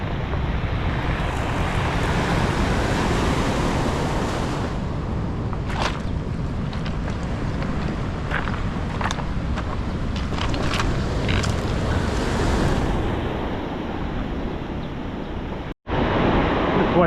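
Big ocean waves crash against rocks on a rough, wind-battered shoreline, a loud continuous roar of surf and wind noise with several sharp splashing bursts in the middle, no one speaking.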